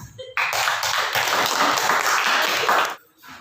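Classroom applause from a vocational high school class, dense steady clapping from many students close by, lasting about two and a half seconds before stopping abruptly, with brief talk at the start.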